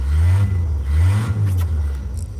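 Truck engine revving close by, heard from the back of the truck: a loud, low engine drone that rises and falls in a few surges, with no talking.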